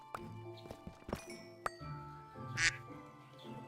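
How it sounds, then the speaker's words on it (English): A single nasal quack from a duck in Minecraft, heard amid scattered game clicks, chimes and tones, loudest about two-thirds of the way through. "That was a duck."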